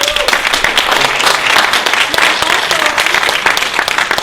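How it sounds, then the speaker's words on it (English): A conference crowd applauding a panel steadily for several seconds, dense and loud clapping with a faint voice underneath. "Please give our panelists a round of applause."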